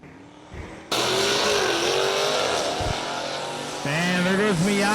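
A Mazda Miata race car at a racing event roars loudly past on track, then accelerates with rising engine pitch and a brief whine, with people talking faintly in the background.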